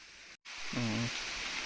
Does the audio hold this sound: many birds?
no